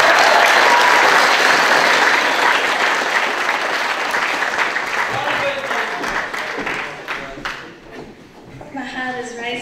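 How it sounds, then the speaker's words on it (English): Audience applause at a village talent show in Kimbolton, a dense, loud burst of clapping that slowly thins and fades, with a few voices and cheers rising near the end. "Big hand applause for Chris for a fantastic job he's done tonight."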